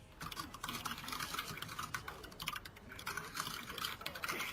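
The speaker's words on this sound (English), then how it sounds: "you just hear Emma typing at like 100 fucking words a minute" Fast, continuous typing on a computer keyboard patters steadily throughout, a dense rapid clatter of keys heard faintly in the background.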